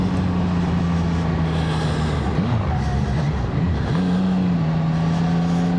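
A CF Moto 675 SR-R motorcycle climbs a hill at a steady pace, its engine drone holding an even pitch, briefly dipping and wavering midway, then settling back, loud and close throughout.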